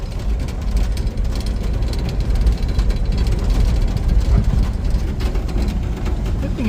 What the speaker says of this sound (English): It's a rattly truck.